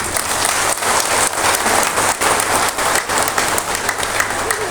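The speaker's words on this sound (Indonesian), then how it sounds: "Kita tepuk tangan untuk mereka." Audience in a church hall applauds the organizers during a visit by Indonesian bishops and a Vatican envoy, dense steady clapping filling the room for the full stretch, loud and sustained without pause.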